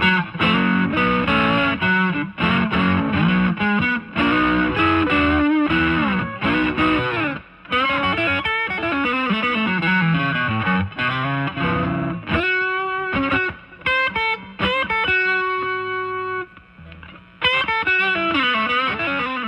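An electric guitar plays chords and picked notes through a Fender Twin Reverb II amplifier with reverb set on 3, a wide wash trailing each phrase; loud and continuous.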